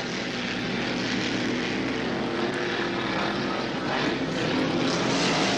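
A hydroplane racing boat engine at a 1974 regatta roars loudly and steadily, a continuous droning buzz with no pauses throughout.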